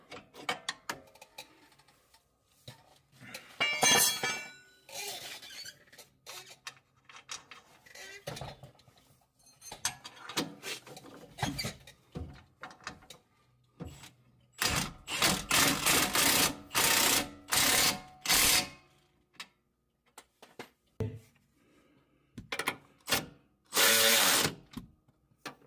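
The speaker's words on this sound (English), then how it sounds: "you can actually get your ratchet in there, which was awesome" A ratchet wrench turns suspension bolts during a rear lift install on a 2021 Chevy Suburban, giving bursts of quick close clicking separated by quiet pauses.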